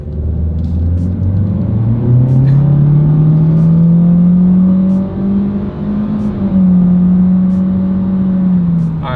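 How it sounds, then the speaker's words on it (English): A 2026 Honda Civic accelerates at full throttle on a straightaway, its engine drone climbing steadily in pitch and staying loud and close for several seconds before easing slightly and holding as it gathers speed. "Let's put the acceleration here to the test with the car having full control"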